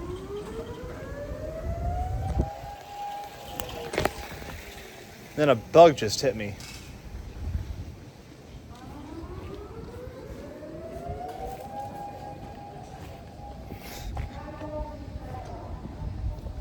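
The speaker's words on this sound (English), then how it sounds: "I just heard a siren go off." A tsunami warning siren wails outdoors in long rising and falling sweeps, heard at a distance, while a person speaks briefly and wind or traffic noise rumbles underneath.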